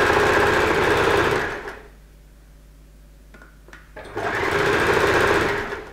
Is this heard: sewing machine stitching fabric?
yes